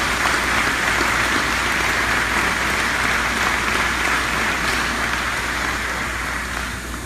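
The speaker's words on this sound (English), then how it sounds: "Round of applause for those who supported us." Audience applause at a 2017 Gainey Cup awards ceremony, a dense, steady wash of clapping from a large crowd that holds evenly and fades slightly toward the end, with no voices over it.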